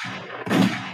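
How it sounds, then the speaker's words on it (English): A single muffled gunshot-like boom lands about halfway through, a dull heavy thud set against a low rumbling background, with no voices. "We got some gunshots."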